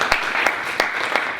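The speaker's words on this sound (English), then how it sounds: "So a round of applause to our featured" Conference audience claps for the featured speakers in a short, dense burst of applause with a few sharper individual claps standing out.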